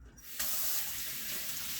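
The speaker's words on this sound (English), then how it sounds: "I'm just going to let my faucet run until it gets steaming hot." Water gushes steadily from a kitchen faucet after a brief quiet start, a constant close hiss with no talking.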